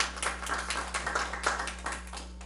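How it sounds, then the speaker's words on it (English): Scattered, fairly light clapping from a small group at a school board meeting, a few seconds of uneven claps over a low steady hum in the room. "That deserves an applause."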